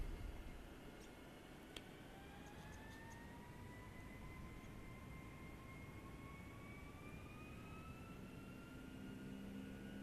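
Steady broadband roar of simulated Boeing 757 jet engines spooling at full throttle in FSX, with rising whine tones climbing slowly over ten seconds, continuous and fairly loud, no talking.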